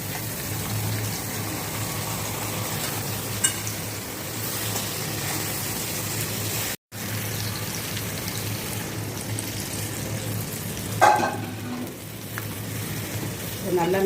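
Crab pieces added to a pan of sautéed onions and curry leaves give a steady hiss of frying, with a short cutout midway and brief scraping of stirring later.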